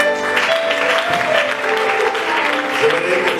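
A church congregation claps loudly and continuously in praise, a dense wash of applause with voices mixed in.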